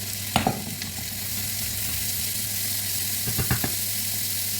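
Chopped carrots and onions fry with fish in a pan, giving a steady loud sizzle broken by a few sharp crackles and stirring knocks, with no talking.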